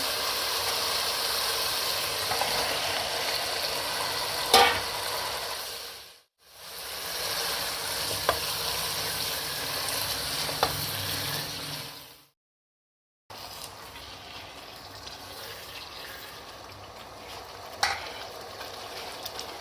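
Chicken and water sizzle loudly in a karahi pan, a steady close frying hiss with occasional stirring clicks and a brief pause, no voices.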